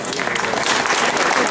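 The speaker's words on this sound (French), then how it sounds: "Je rappelle que je suis avec mon ami Grégory qu'on applaudit encore." Steady applause from a conference audience, a short, dense stretch of clapping at even loudness with no voices on top.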